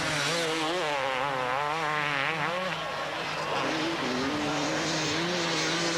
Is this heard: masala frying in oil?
no